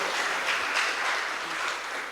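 A church congregation claps during a Spanish-language sermon, a steady wash of hand claps from many people filling the room, dense and continuous throughout without any voices.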